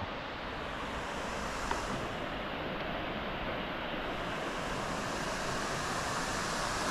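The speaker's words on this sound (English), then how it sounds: "The Pa Sui waterfall." Steady, dense roar of falling water at Pa Sui waterfall in northern Thailand, broad and continuous like surf or wind, heard close with no voices.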